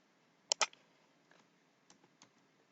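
A few light computer keyboard keystrokes while entering data into a spreadsheet: a quick close pair of clicks, then scattered faint taps, with a quiet room and no talk.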